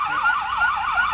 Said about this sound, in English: this is the Milton Fire Department, their truck. Well, that's one of the rescue units there. And I think they're going for loudest siren